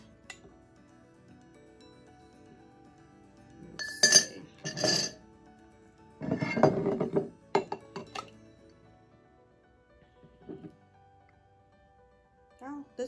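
A tall glass clinks and rattles as margarita punch ingredients are mashed in it, several short bright glassy bursts spaced apart with quiet gaps between them, close and fairly soft.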